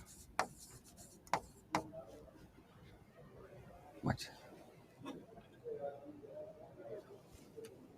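Chalk or marker taps and scrapes on a board in a classroom, sharp ticks and short scratchy strokes at uneven intervals, fairly faint, with a teacher speaking alongside.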